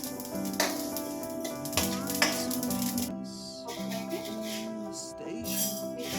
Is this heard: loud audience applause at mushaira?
no